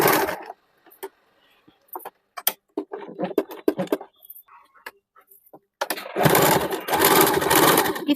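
A sewing machine runs through a suit seam made from an old saree, stopping and starting in short bursts before one long steady run of stitching, with handling clicks between.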